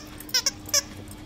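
Three quick, high squeaks come from a squeezed toy, close and fairly loud against quiet room tone.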